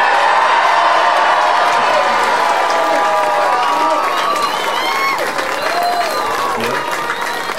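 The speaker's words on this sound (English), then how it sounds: "let's give one big Mahari cheer to Aidan Fogger and the All-Ireland Champions of 2024" A hometown crowd at a homecoming for the 2024 All-Ireland champions bursts into sustained applause, cheering and whoops, a dense, continuous roar with scattered shouts rising above it.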